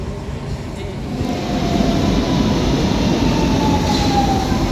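Lisbon metro train arriving at an underground station, a loud steady rumble of wheels and motor building slightly as it comes in, with faint rising squeal and some background voices.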